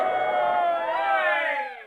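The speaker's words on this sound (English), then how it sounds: "The crowd cheers." A boxing crowd on a radio comedy show cheers in one sustained, loud swell of voices that holds for nearly two seconds before cutting off.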